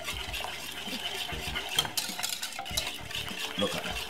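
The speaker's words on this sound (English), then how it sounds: "And give it a stir." A spoon stirs Jamaican-style lasagne sauce with milk and cheese in a pot, making repeated close clinks and scrapes against the metal over a faint simmering sizzle.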